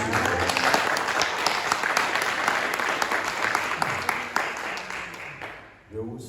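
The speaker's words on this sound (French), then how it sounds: "Applaudissez très fort le chargé." A church congregation applauds loudly and steadily for several seconds, a thick wash of many hands that fades out near the end before a voice comes in.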